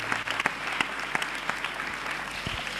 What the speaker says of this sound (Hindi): एक बार ताली बजा के खुदा के महिमा करें,